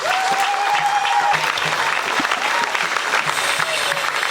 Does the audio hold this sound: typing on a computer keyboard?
no